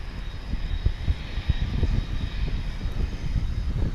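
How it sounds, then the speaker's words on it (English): A UPS MD-11 cargo jet at DFW International Airport makes a steady, distant engine rumble, low and continuous with no other sounds over it. "this here aircraft. It's a UPS MD-11"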